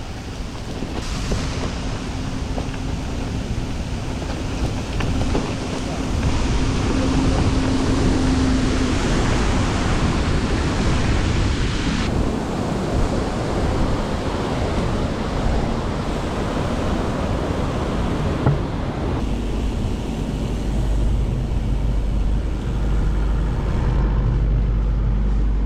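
Powerful water rushing near Killin, a loud, steady broadband roar that continues without letup for the whole stretch, with no talking.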